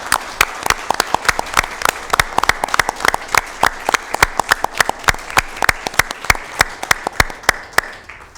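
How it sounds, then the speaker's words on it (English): A small group at a Sacramento County Board of Supervisors meeting claps in a steady, distinct rhythm of sharp individual claps, about four per second, holding for roughly eight seconds before tapering off at the end. "So with that, I'd actually like to give you a round of applause."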